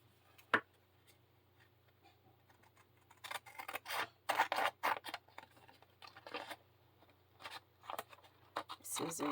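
Scissors snipping paper for a beginner folio journal, several short dry cuts in quick bursts close by, with a person talking between the snips.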